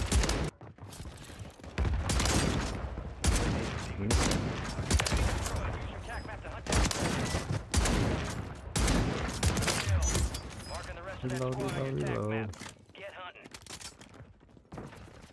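Rapid bursts of Reclaimer 18 shotgun fire in Warzone 3 gameplay, loud repeated blasts in quick clusters with brief gaps, someone talking over parts of the action.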